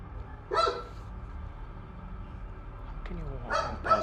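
A dog barks nearby in two bursts: a quick pair of yaps early on, then a cluster of sharp barks near the end, with quiet background noise in between.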